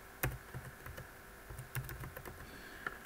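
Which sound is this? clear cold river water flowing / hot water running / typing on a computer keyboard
typing on a computer keyboard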